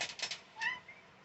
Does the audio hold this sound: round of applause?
no